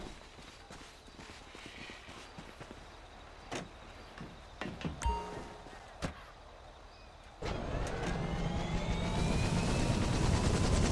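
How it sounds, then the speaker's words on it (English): A helicopter in Grand Theft Auto 5 starts up near a submarine hangar, a low rotor and engine roar swelling in after a few scattered clanks and knocks and holding steady and loud to the end. "I guess this is our chopper."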